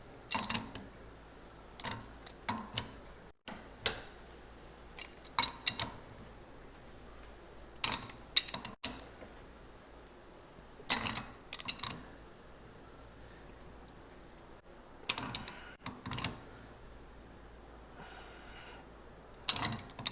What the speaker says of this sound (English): And we will have to use a pipe wrench on this guy as well.